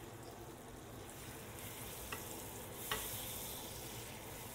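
Almond sauce simmering in a frying pan gives a faint, steady sizzle and bubbling, with a couple of soft clicks from stirring.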